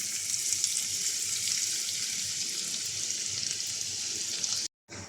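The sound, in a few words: chopped onion frying in a pan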